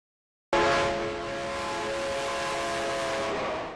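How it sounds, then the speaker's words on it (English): A train rumbles past nearby in a dense, broad roar after a short silence. The roar stays loud and steady for a few seconds and then begins to fade. "There's our train."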